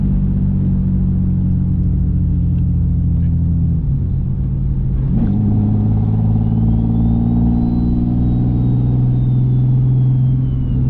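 A Nissan 370Z with a single-turbo conversion pulls in fifth gear, its engine a loud, steady in-cabin drone that dips briefly, then climbs again with a faint rising turbo whine.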